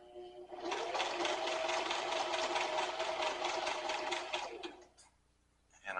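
A sewing machine runs steadily for about four seconds, stitching a custom leather wallet with the presser foot as a guide. The whirring is close and even, then stops into quiet.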